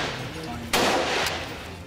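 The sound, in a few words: gunfire during army encounter with terrorists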